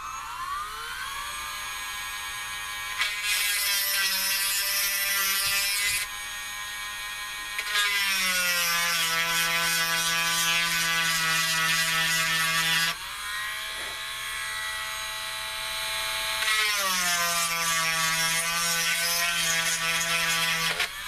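A small high-pitched drill whirs in repeated bursts into a plastic 1/350 scale Polar Lights Enterprise model kit, pitch dropping as it bites under load, with short pauses between runs.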